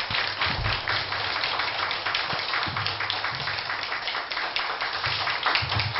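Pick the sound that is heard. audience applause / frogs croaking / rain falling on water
audience applause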